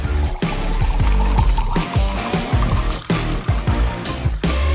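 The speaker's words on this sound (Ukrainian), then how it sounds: "А тепер заливаємо все фантою." Fanta poured into a glass over fruit and berries, a continuous loud close gurgling and splashing fizz with bubbling pops throughout, no talk.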